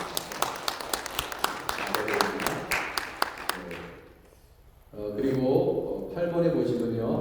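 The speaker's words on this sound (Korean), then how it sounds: "박수로 격려해 주십니다." Church congregation clapping for the choir conductor: a short burst of sharp, distinct handclaps over a few seconds, fading out, after which someone speaks into a microphone.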